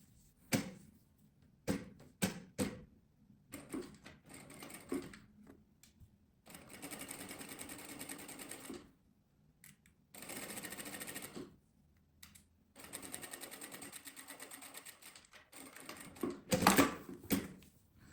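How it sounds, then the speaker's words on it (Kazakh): A sewing machine runs a straight stitch in several separate bursts, some short and quick, others longer steady runs of a few seconds each, close to the microphone, with pauses between them and no talking. "енді осы жерді түзу тігіспен тігіп шығамыз."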